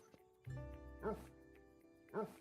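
A person imitates a dog with their voice, giving two short, nasal woofs about a second apart, fairly close and quiet, with a bit of talk just before.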